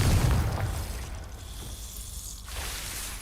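A Confringo blasting spell going off in Hogwarts Legacy: one loud, close burst that booms and then fades into a rumbling tail over a few seconds, with a softer whoosh near the end.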